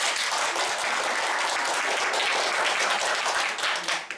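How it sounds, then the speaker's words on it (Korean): Audience at a Buddhist dharma talk in Ulsan applauds steadily for first-year members, a dense, even patter of many hands clapping at close range for about four seconds with no talk. "1학년을 위해서 한 박수 한번 쳐주세요."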